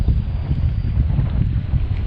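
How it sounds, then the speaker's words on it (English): Strong wind buffets the microphone while kayaking on choppy water, a loud, continuous low roar with gusty pulses throughout and no talking. "It's really windy and the waves are pretty big, so the water's really choppy."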